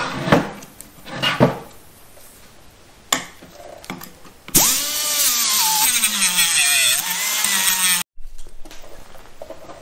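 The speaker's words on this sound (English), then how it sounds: "the easiest way to get these rivets out is to grind them" A power grinder cutting out the rivets on a Chevy Nova control arm: a few clanks and knocks first, then a loud, steady high whine of the grinder biting metal for several seconds before it cuts off abruptly.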